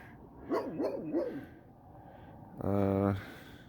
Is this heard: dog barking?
yes